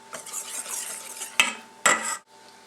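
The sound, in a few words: stirring Dutch baby batter in a bowl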